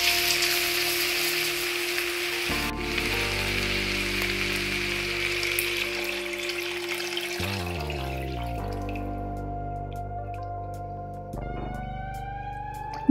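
Water is poured into a chicken stew pot with vegetables already in it, making a steady, loud rushing hiss that runs on for several seconds, mixed with sizzling from the pot and no speech.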